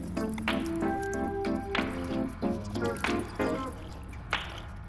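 Used cooling fluid being poured out of a container, gurgling and glugging in uneven bursts with wet drips and splashes, fairly close and with no talking.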